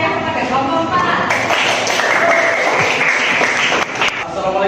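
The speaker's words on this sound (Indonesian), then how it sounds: "Cepat beri tepuk tangan yang meriah kepada kelompok 4." Applause and clapping from an audience cheering on group 4 before their presentation, a dense steady wash of many hands with crowd noise and some voices mixed in, brief dip near the end.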